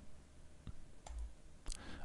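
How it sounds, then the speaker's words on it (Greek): Computer mouse double-click in a cost-estimating program, heard as a few short, faint clicks spaced apart in a quiet room with no talking. "κάνοντας διπλό κλικ σε μια βασική τιμή"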